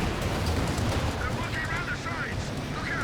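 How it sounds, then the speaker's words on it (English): A Calliope rocket barrage in the game Company of Heroes 2, heard as a rumbling wash of explosions and booms under a commentator's continuous speech, with the battle noise dense and sustained. "What a good hit there, and also Calliope rocket barrage."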